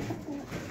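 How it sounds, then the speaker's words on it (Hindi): A Kasuri pigeon with red eyes gives a faint, low coo lasting under a second, quiet and close, with no talk over it. "देखो माशाल्लाह कुंदे कबूतर के"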